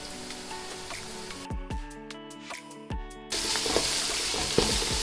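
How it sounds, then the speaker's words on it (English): Ginger garlic paste frying with golden-browned onions in a pot: close sizzling and spattering hiss that drops out briefly in the middle, where a few knocks are heard, then returns louder and denser. "Make sure you fry the ginger garlic properly"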